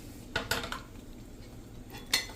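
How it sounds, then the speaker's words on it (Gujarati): A pot of spicy seven-grain khichdo is lifted off a gas stove, giving a few brief metallic clanks and scrapes close by, followed by a quiet stretch and one last clink. "તો હવે આપણે ખીચડાને પણ ગેસ બંધ કરીને અને નીચે લઈ લેશું"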